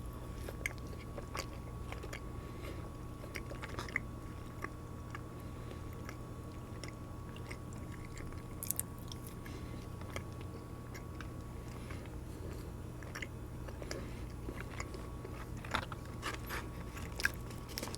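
Faint, close crunching and chewing of Burger King fries dipped in garlic chicken sauce, with soft irregular bites and mouth sounds spread through a quiet stretch and no talking.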